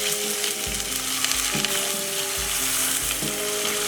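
Chopped onion frying in oil with a whole bay leaf and whole garam masala, a constant close sizzle broken by a few rhythmic scraping stirs of a spoon in the pan, no voices.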